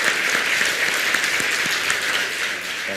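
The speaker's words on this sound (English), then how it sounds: "Give them a big round of applause." A crowd at a dialogue between the US President and Vietnamese start-up entrepreneurs gives sustained, dense applause, even and loud throughout with no break.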